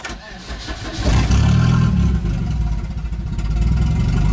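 A Volvo 245 with a turbo swap cranks and catches, the engine starting up loudly and close, then settling into a steady, slightly uneven idle.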